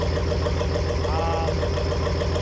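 A Cummins-swapped square-body Chevy truck idles with a diesel engine, giving a steady, low, rhythmic chugging that stays even and moderately close, with no other sounds on top.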